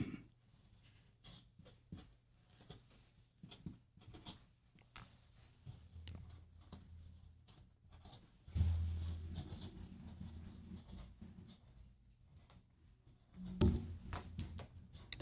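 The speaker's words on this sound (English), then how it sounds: "tune into the soothing sounds of pens writing on tablecloth" Quiet, irregular scratching and tapping of pens writing on a tablecloth, close by, with occasional low thumps and faint background hum.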